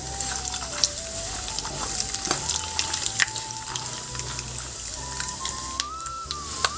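Tempering seeds, cumin and peanuts fry in a pan for carrot rice, giving a continuous crackling sizzle with occasional sharper pops and stirring scrapes, close and alone apart from a faint steady tone underneath.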